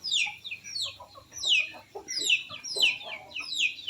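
Native chickens clucking repeatedly in short bright bursts, several birds close by, with no talking.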